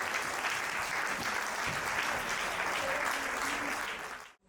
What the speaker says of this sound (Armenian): Ջերմ ծափահարությունը նաև մեր ծևի մանկավարժներին